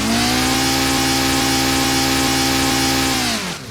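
A wheel spinning and skidding in place, a loud, close, continuous engine-like whine holding a steady pitch with a faint regular pulse, then dropping off abruptly at the end.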